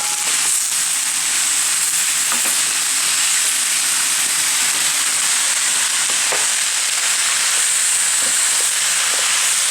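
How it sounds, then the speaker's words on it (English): Spicy Korean stir-fry sizzling steadily in a hot pan, a loud, continuous bright hiss with occasional crackles and stirring scrapes, close up and with no talking. "now that we got the stuff in the pan and it's sizzling away"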